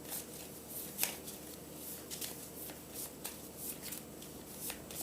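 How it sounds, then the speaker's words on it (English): A deck of cards is shuffled repeatedly during a Star Wars Clone Wars board game, giving a steady run of crisp riffling bursts at close range with no talking. "Shuffle the discard pile and create a new face-down deck, then draw."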